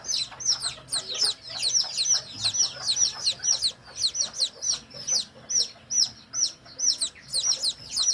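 Newly hatched Chabo Bantam chicks in the benjarong colour peep over and over, high and close, in quick repeated bursts of chirps with little pause between them.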